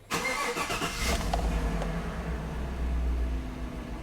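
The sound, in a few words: Chevrolet Silverado truck engine cranking and starting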